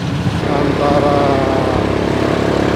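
A motorcycle engine and exhaust drone steadily and loudly while riding at night, a continuous rumble with a rising tonal whine.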